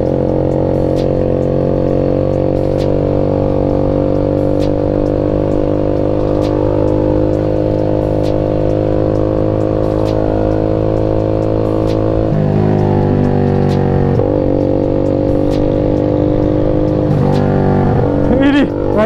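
A motorcycle engine drones loudly and continuously on a night ride in Bogor, holding a steady revving tone before its pitch shifts and surges in the last few seconds.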